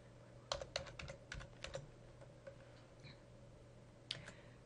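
Someone keys in a call number on a computer keyboard in a library catalogue system, producing quick bursts of close, crisp key clicks followed by a few scattered taps, fairly quiet overall.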